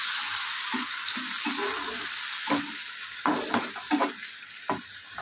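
An onion, tomato and poppy-seed paste with prawns fries in a wok with a bright, continuous sizzle, broken by repeated scraping and knocking as it is stirred, close and fairly loud.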